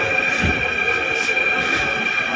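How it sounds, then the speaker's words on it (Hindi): Steady rumble and hum of a Delhi-area metro train at the station platform in the evening, continuous and fairly loud, with a high whine running throughout and no clear talk. "स्टेशन में मेट्रो भी आ गई है"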